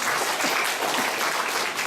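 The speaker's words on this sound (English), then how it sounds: "Give him a round of applause" Applause from a seated audience at a community congress hall in Western Australia, steady dense clapping lasting under two seconds, moderately loud and close, with no voices over it.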